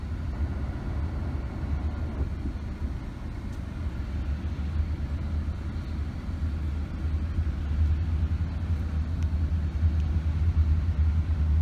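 A New York & Atlantic Railway freight train, RS-71, hauled by P38-2 locomotives and an MP15AC, passes close by as a steady loud low rumble that swells slightly toward the end.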